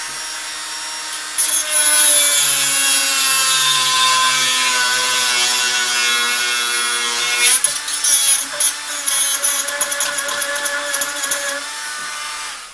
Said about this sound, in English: Just take a cut-off wheel on like a Dremel tool or whatnot, and then just go ahead and just cut it right off.